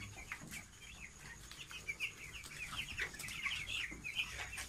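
Broiler chicks on a poultry farm peep and chirp continuously in a soft, busy chorus, faint and somewhat distant, with no talking.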